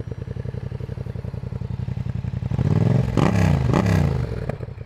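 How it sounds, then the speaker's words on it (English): Yamaha MT-07 / XSR700 parallel-twin crossplane engine idling with an uneven, lumpy throb, then revved hard twice in quick blips that swell and drop back, close and loud. "You got to listen to this thing. This parallel twin with cross plane sounds so awesome."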